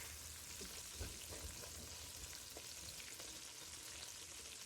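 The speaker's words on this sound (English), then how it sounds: "So I'm just going to sear it on all the sides again." Seasoned meat, rubbed with rosemary, thyme, salt, pepper, garlic powder and onion powder, sears in a hot pan with a steady, faint sizzle and a few soft clicks and stirring knocks throughout.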